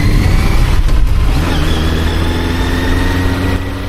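Four-cylinder engine of a VOGE RR660 motorcycle hums loudly and close, a steady low drone with a brief rev change near the start before settling into an even tone.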